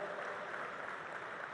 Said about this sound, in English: I think we should give them a big round of applause for accepting the honors